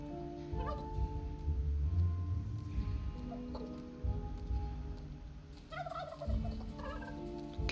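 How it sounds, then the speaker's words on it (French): Turkeys in the game Dungeons 3 gobbling repeatedly in quick rattling bursts, loud and close over a steady droning game background. "Il y a du dindon, ça c'est sûr mais..."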